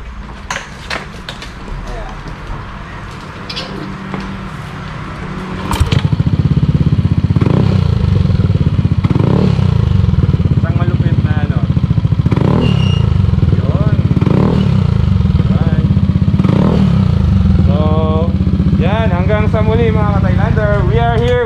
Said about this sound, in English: So isang sample nga sa box sounds.